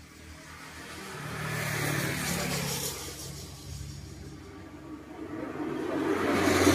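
A car engine rises and fades as a vehicle passes by, a steady road rumble that swells again toward the end.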